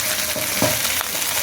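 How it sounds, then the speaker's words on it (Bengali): Finely chopped beans tipped into a pan with frying onions, a steady close sizzle with a few soft stirring scrapes over its short span; no voices. "এখন শিম দিয়ে দিচ্ছি, একদমই কুচি কুচি করে কেটেছি।"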